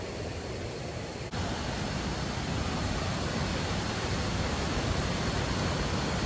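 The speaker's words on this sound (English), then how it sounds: "We're coming up to the waterfall now." Waterfall on Koh Chang island, Thailand, heard as a steady, loud broadband rush of falling water that fills the clip without letup, after a brief dip near the start.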